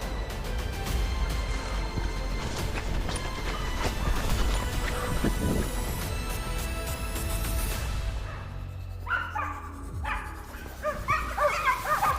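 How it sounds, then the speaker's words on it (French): A hunting dog barks and bays as it chases a wild boar through snow during a driven boar hunt. The barking is continuous and fairly distant, carried over rough outdoor noise, with a few closer yelps near the end. "Le chien a fait presque 1 km derrière le sanglier sans s'arrêter"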